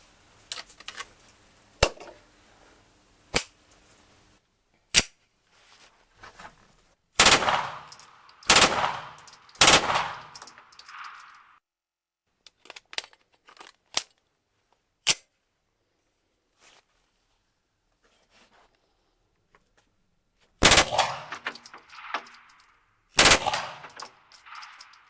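A Beretta 93R automatic pistol firing on a range, sharp loud reports, some in rapid bursts and some single, spread between quiet gaps with echoing tails and metallic handling clicks.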